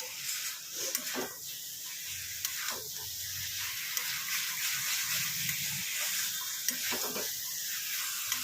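Mutton mince being sautéed in a pan, a continuous hissing sizzle with occasional scraping stirs, close and steady, no speech.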